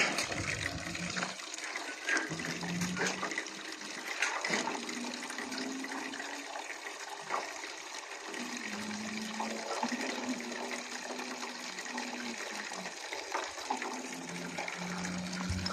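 Water pours and trickles steadily for goats on a farm in Saudi Arabia, a continuous splashing flow like a tap filling a trough, close by with low hum underneath and no talk.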